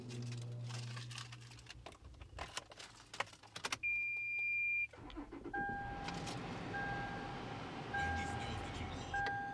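A 2012 Toyota 4Runner starts up: keys jangle and click, warning chimes beep, a brief whirring crank catches, and the engine settles into a quiet idle under repeated dash chimes, recorded from inside the cabin.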